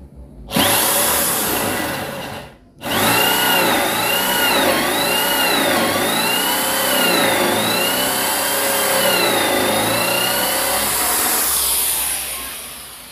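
A loud 13mm Total impact drill with a 16 mm bit whines and hammers steadily into a concrete wall, briefly stopping then restarting, its pitch wavering as it bites, with no talking.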